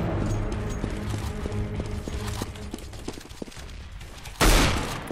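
Gunfire from an SSG rifle in the Roblox game mode CB:RO, with a string of close, regular clicking shots and mechanical rattles over game noise, ending in one loud sharp blast.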